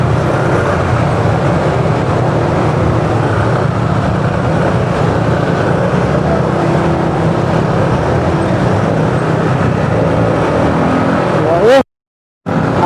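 Road traffic at Mendiola rumbles steadily during a rally, a loud, continuous wash of engines and road noise close by, with voices mixed in before a brief cut to silence at the end.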